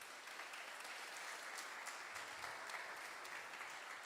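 Steady applause from a church congregation during an evening worship service fills the space evenly, a dense wash of clapping with no voices standing out.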